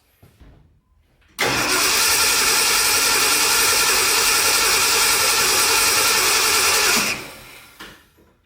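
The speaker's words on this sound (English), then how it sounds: "Now let's see if the fuel pump pumps." The engine of a 1974 Ford F100 with a fresh carburetor and new fuel pump cranks on the starter for about six seconds in a loud, steady, close whirring drone, then cuts off into quiet.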